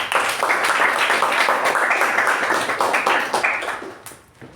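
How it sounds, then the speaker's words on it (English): Audience at a Toastmasters club meeting gives a sustained round of applause for a Toastmaster, dense clapping holding steady for several seconds before tapering off near the end. "let's give a big round of applause for Toastmaster Malagiri"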